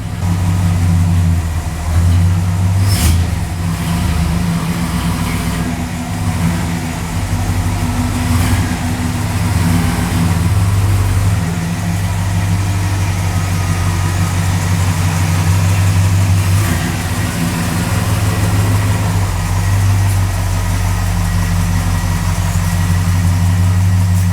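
Restored 1964 Ford Galaxie 500 engine idling, heard from inside the cabin with the windows down, a steady low rumble with faint background noise throughout and no talking.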